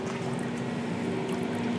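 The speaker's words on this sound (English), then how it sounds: "we're actually going to show you what 90 seconds does for cleaning an aluminum cylinder head" An ultrasonic cleaner works on a dirty aluminum cylinder head, giving a steady, close, even hum with a watery fizz and a faint tonal drone that holds unchanged throughout. No one speaks.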